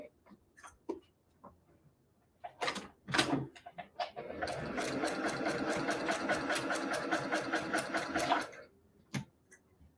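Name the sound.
sewing machine stitching last seam of quilt block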